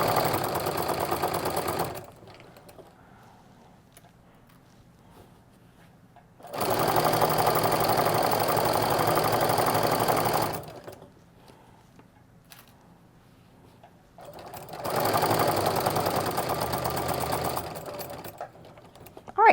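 A sewing machine stitches quilt-as-you-go placemats with a quarter-inch seam and a longer stitch length. It plays in three distinct whirring bursts, close and clear, separated by near-silent pauses.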